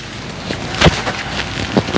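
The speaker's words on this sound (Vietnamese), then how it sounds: "Trời mưa rồi." Rain falls steadily outdoors as a constant hiss, broken by a few louder drops or thuds striking a surface close by.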